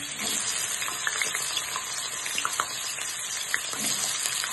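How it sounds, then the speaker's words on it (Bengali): Steady sizzling of potatoes and raw jackfruit frying in hot oil, a dense crackling hiss with scattered pops, no voices. "আলু এঁচোড় দুটোই ভেজে নেব"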